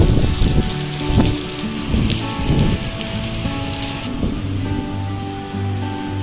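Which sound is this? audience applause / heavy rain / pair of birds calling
heavy rain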